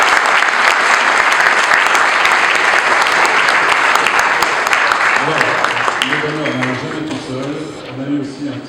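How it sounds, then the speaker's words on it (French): Sustained applause from an audience honouring four rowing vice-champions of France at a Monaco nautical society ceremony, loud and dense, easing off toward the end as voices emerge. "Je crois qu'on peut les applaudir."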